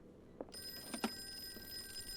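Telephone ringing in the Call of Cthulhu video game, a faint electronic bell tone that starts about half a second in and holds steady over a quiet background, with a couple of brief soft knocks.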